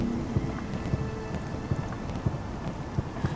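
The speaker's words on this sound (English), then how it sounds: "It's weird rain." Steady rain falling in the video game Morrowind on the island of Solstheim, a dense continuous hiss with low rumbling and scattered louder drops throughout, no voices.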